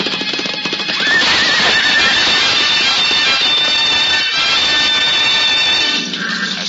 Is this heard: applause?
no